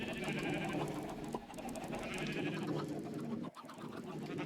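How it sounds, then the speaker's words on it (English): Minecraft sheep bleat in a dense, overlapping chorus at a wool farm, a steady wavering clamor close by with a brief dip near the end. "There are all the sheep"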